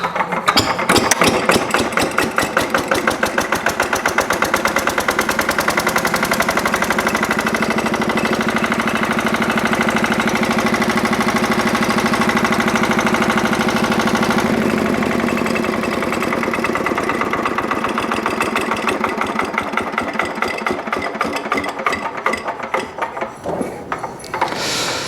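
An old Bedford RL truck engine cranks, fires and settles into a loud, close, rhythmic diesel knock that runs steadily throughout before slowing near the end.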